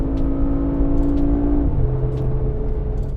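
A Mercedes-AMG G63 V8 engine revs up under load with a deep, rising growl, then drops pitch after a gear change and keeps pulling, loud and close.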